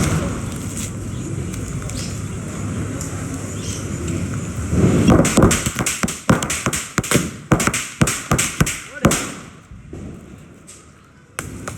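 Diwali firecrackers go off outdoors in a rapid string of sharp, loud bursts and pops after a noisy windy stretch, with smoke-filled celebration ambience and voices faintly in the background.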